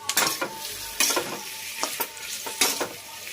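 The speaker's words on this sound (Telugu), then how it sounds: "ఫ్రై అయ్యేదాకా మధ్యలో మధ్యలో కలుపుకుంటూ ఉండాలి మీడియం ఫ్లేమ్లో పెట్టుకోవాలి" Ivy gourd (tindora) fries in a pan over a medium flame with a steady sizzle, broken by repeated scraping stirs of a spatula close up.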